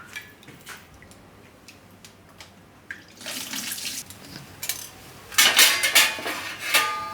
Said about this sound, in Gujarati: તો આ બધું પાણી આપણે કાઢી નાખીશું.